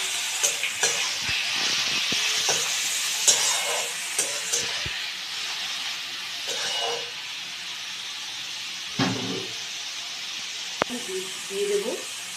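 Chopped goat fat hitting a pan of already-fried onions, loud continuous sizzling and hissing with scraping stirs and clinks throughout, a voice speaking in places over the frying.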